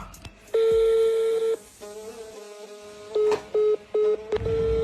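Electronic keypad tones: one long steady beep followed by several short, evenly spaced beeps, loud and close, with faint background noise between them.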